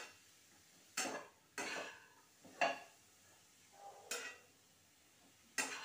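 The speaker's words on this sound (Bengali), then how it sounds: "ভালো করে একটুখানি নাড়াচাড়া করে ঘিয়ের সঙ্গে পেঁপেগুলোকে ভেজে নেব।" Papaya pieces are stirred and fried in ghee in a pan: a handful of separate scraping strokes, soft and close, spaced about a second apart with quiet pauses between.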